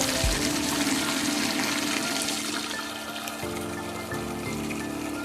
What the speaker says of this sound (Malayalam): നമ്മൾ ടാങ്ക് നിറച്ചുകൊണ്ടിരിക്കും